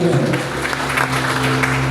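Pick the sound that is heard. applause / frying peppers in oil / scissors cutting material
applause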